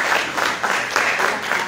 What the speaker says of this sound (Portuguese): Ela merece salva de palmas